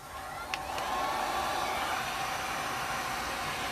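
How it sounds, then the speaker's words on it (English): A Wagner Furno 550 heat gun runs on its fan setting with little heat, a steady loud broadband blowing rush that holds for the whole stretch after a brief click near the start, with no talking. "I don't like to leave my heat gun plugged in when I'm not using it. I use the Wagner Furno 550."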